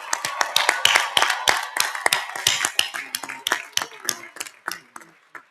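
A small scattering of people claps for graduating 4.0 students at a spring undergraduate commencement ceremony, a loose irregular run of close hand claps that slows and thins out toward the end.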